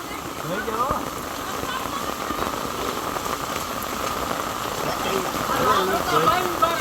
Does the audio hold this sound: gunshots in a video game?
no